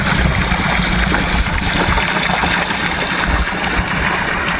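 Water drains from a flooded basement with a steady rushing, trickling flow that is close and continuous throughout, with no talk over it.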